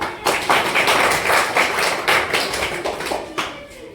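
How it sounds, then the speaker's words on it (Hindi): A class of children in a language-learning session clap together on cue. Around ten crisp, evenly spaced group claps ring out close by in a steady rhythm. "ताली बजाओ बच्चों।"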